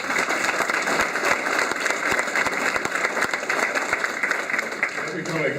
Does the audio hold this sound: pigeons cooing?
no